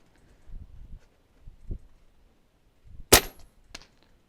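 A JSAR Raptor airgun fires a single sharp, loud crack on an outdoor range, followed by a fainter metallic impact moments later, with soft handling noises before the shot.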